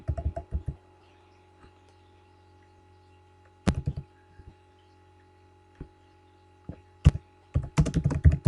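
Keys clacking on a computer keyboard while entering text into a Word document, in short separate bursts of quick taps with quiet pauses between, close and fairly soft.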